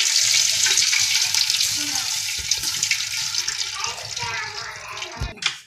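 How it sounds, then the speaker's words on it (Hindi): Milk poured into hot ghee in a pan with roasted cashews, almonds and pistachios, a loud hissing sizzle and watery rush that slowly fades, with a few clinks near the end. "अभी दूध डाल देंगे घी में।"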